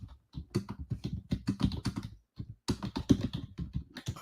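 Rapid typing on a computer keyboard, a dense run of close, crisp key clicks in quick bursts with a brief pause midway, loud and alone.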